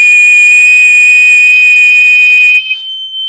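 A steady electronic buzzer tone with a person whistling over it at the same time from an ExpEYES Python-powered measurement device demo. The two pitches hold together, then the whistle fades out near the end and only the buzzer remains, loud and close.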